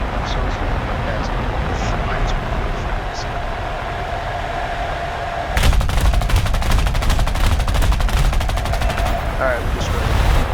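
Rapid bursts of machine-gun fire from a Bell P-59 jet fighter in War Thunder, starting abruptly midway as a dense rattling stream over a steady engine drone, loud and close.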